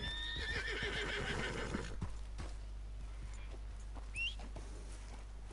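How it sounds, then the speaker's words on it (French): In Red Dead Online, a horse whinnies loudly at the start, then hooves clop in a loose rhythm, with a faint bird chirp later on. "C'est à qui ce cheval?"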